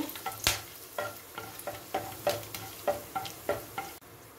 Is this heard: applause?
no